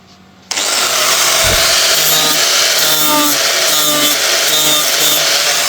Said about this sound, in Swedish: Så den tar vi och slipar av lite grann.